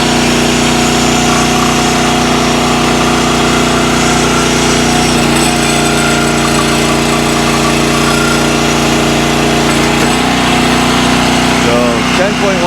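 A Countyline log splitter engine runs loud and steady near the microphone with a constant droning hum while the hydraulic cylinder cycles out and back, and the pitch shifts slightly near the end.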